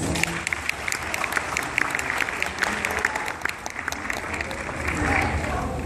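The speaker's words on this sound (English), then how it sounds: "Ladies and gentlemen, please give them a warm round of applause." A banquet audience at a Cebuano association gathering gives a warm round of applause, sustained dense clapping with sharp individual claps standing out and a faint murmur of voices underneath.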